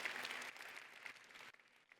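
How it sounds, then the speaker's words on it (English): Audience applause at a talk on Jain practices and health, a steady patter of clapping that cuts off sharply partway through and trails into a few scattered claps, fairly faint and distant. "give them a round of applause as a mark of your respect"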